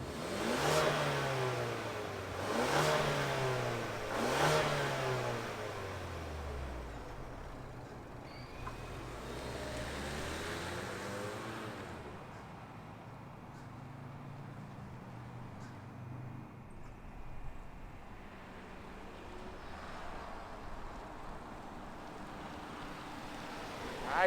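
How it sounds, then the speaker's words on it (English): A 2023 Ford Explorer four-cylinder engine starts and revs several times in quick rising-and-falling bursts, then settles into a quieter steady idle, close and fairly loud at first. "let's fire up this four banger and see it in motion"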